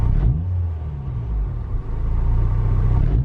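Up close, a modified Honda Civic Si engine blips its revs at the start, then drops back and settles into a steady, even idle rumble, with no talking.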